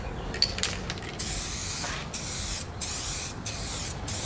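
Trim paint sprays from an aerosol can onto a swivel bucket seat from a 442, a close hissing stream in repeated bursts separated by short pauses.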